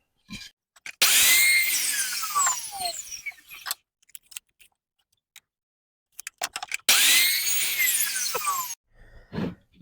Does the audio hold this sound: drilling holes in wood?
yes